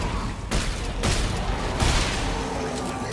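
Gunfire in Dead Space 3 bursts out in a few sharp, loud shots close together over a noisy, rumbling background.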